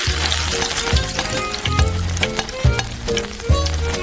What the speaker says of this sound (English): Grease the frying pan with oil and fry the onion and ginger.